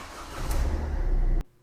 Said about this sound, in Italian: Ora accendiamo un attimo il quadro dell'auto